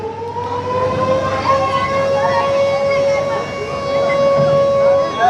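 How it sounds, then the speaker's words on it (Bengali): A loud, steady horn blast from the Prince Awlad-10 passenger launch holds for several seconds without a break as the vessel reverses away from the Barisal launch ghat on its first trip, against faint background noise. "হর্ন দিচ্ছে শুনতে পাচ্ছেন"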